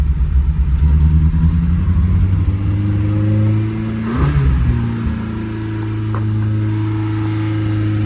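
A VW engine with a stuck accelerator revs loudly and close, holding high steady revs, dipping and rising again midway, then settling into a sustained drone.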